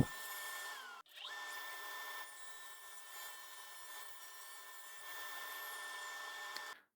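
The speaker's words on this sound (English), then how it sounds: "I now rip the board to its final dimensions." A table saw ripping a scrap board to final dimensions for a cart, a steady whining tone from the blade under load that runs for several seconds after a brief break at startup, with the pitch shifting slightly as it spins down.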